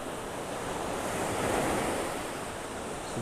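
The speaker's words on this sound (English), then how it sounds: "Waves breaking over the sandbar." Ocean waves break over a sandbar off a North Naples, Florida beach, a continuous roaring surf wash with a gentle swell in the middle, mixed with wind buffeting the microphone.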